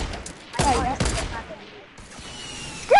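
Bursts of automatic gunfire in a Fortnite match, two dense rattling volleys close together early on, then fainter shots and ambient game noise; speech briefly overlaps.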